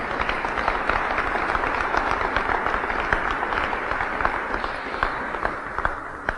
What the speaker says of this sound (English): Please, can we give Sally one more round of applause?